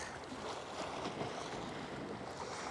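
Sea waves washing on the shore at sunrise by the sea, a soft, steady rush of surf blended with wind buffeting the microphone, distant and constant, with no voices.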